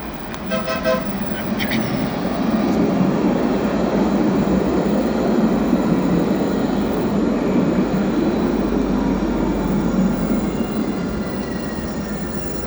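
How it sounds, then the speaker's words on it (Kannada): A Jerusalem light rail train rumbles steadily and loudly nearby, approaching from ahead, with two short horn toots near the start. "ಇನ್ನೊಂದು ಲೈಟ್ ಟ್ರೈನ್ ಬರ್ತಾ ಇದೆ ಮುಂದುಗಡೆಯಿಂದ"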